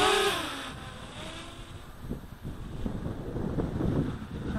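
Gusty wind rushing across the microphone while a quadcopter flies on Maui, a low rumbling buffet that swells and fades, with faint engine-like drone underneath.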